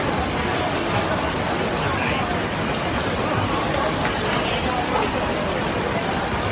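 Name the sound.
rain falling at Jalan Alor street dinner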